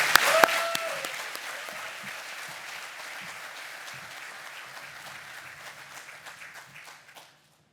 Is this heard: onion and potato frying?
no